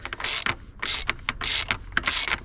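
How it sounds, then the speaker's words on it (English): A ratchet on a long extension turns a 32mm socket on the oil drain plug of a 2.0 TDI 170bhp Audi TT, giving loud, close clicking bursts in four quick even strokes with brief pauses between. "I have a nice long extension so I can get the ratchet on it"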